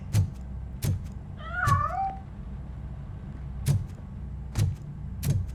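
Cat meows in Robocop: Rogue City, a short wavering rising-and-falling mew around the middle, over repeated dull thumping impacts and low game ambience.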